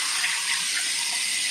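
Tap water runs steadily from a bathroom faucet while someone washes their face, a continuous close hiss with no breaks.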